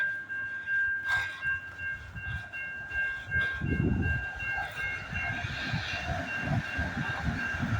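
A train rumbles past close by, with a steady mechanical roar, a sustained horn-like tone, and rhythmic rattling of wheels over the tracks.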